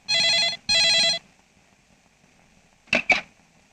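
A telephone rings as a call is placed to a friend, two loud bursts of ringing in quick succession, then near silence before two short clicks or beeps.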